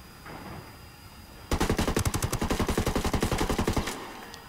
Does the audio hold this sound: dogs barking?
no